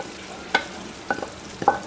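Ginger-garlic spice masala being stirred in a pot for a large batch of Eid biryani, with three short scraping stir strokes over a faint, low sizzle.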